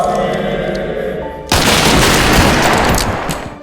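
Gunfire in a horror film scene, a sudden dense burst of shots that cuts in after a stretch of tense score and continues loudly to the end.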